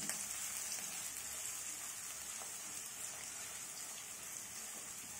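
Onions frying in a pan on a high gas flame, a steady soft sizzle with a fine crackling hiss running evenly throughout, fairly faint and with no voices.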